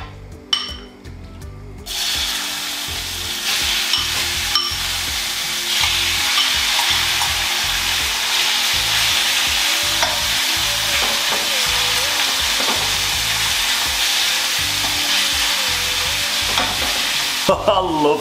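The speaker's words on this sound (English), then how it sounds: "I love the sizzle." Chicken sizzles steadily and loudly in a hot frying pan for a long stretch, with occasional scraping and stirring sounds.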